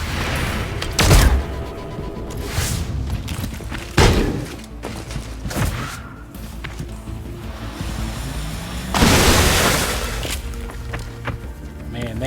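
Gunfire in the turn-based tactics game XCOM: Chimera Squad: several heavy, booming shots a few seconds apart, each a sharp blast with a rumbling tail, over a steady bed of game music and ambience.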